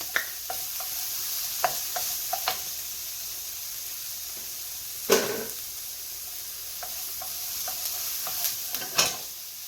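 Sun-dried tomatoes sizzle softly in a hot pan while being stirred, with a steady low fry broken by scattered scraping clicks and a couple of louder clattering stirs, no voices.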